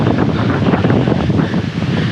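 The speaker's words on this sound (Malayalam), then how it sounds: "ഗംഭീര കാറ്റാ." Strong, steady wind roars across a microphone on the Brahmagiri hilltop in Wayanad, a loud, continuous buffeting rumble that fills the whole stretch with no voices.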